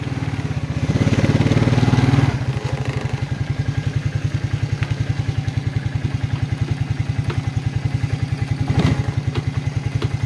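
A 1992 Quadrunner 300 ATV, run after five or six months sitting, chugs loudly and close by with a steady, rapid thumping idle, revving briefly near the start and again late, with no talk.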